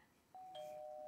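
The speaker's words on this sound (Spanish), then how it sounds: "¡Timbre y puerta!" Electronic doorbell chime on a live Montevideo TV show, a single sustained tone joined by a second overlapping one, ringing clearly with no talk; no separate door sound stands out.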